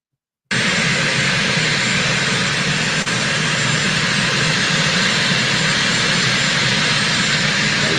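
The aircraft engine of Marine One gives a loud, continuous roar that starts abruptly and holds steady for about seven seconds, with no voices over it.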